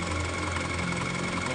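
Motorcycle engine with a suspected leaking valve, idling steadily up close while its air intake is blocked with the filter stuffed, keeping a continuous even drone that does not stall.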